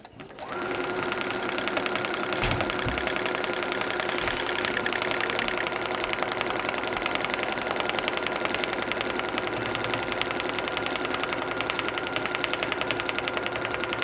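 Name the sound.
sewing machine stitching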